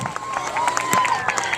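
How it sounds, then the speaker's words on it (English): An audience at a school event for room 29 breaks into applause and cheering, a dense crowd of claps with scattered shouts filling the room. "Let's give them another big round of applause."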